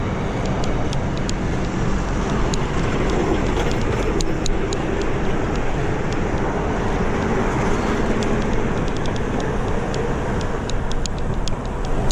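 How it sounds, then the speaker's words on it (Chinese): A Shanghai Line 5 metro train rumbles steadily past with a dense, continuous roar and faint repeated clicking from the tracks. "前方的这个地铁车啊经过，应该就是5号线。"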